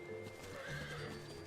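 A horse in the Final Fantasy XIV game gives a short neigh over soft hoof clip-clops, a brief, fairly quiet burst.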